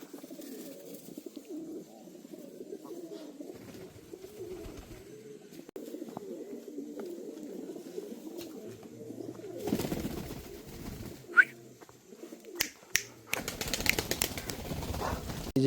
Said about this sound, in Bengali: দুর্দান্ত কোয়ালিটি কিছু আমেরিকান ফ্যান্টেল রয়েছে